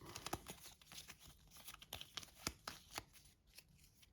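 Cards are shuffled up close for initiative in a Darkest Dungeon tabletop game, a quiet run of crisp riffles and flicks in irregular bursts, with no talking.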